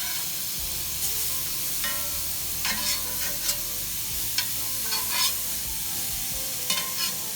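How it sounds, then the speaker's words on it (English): Shrimp sizzle and brown in a preheated skillet, a steady crackling fry with periodic sharper spits and scraping stirs, close and continuous without speech. "I like my skillet to preheat a little bit, because I like my shrimp to get that little brown on it."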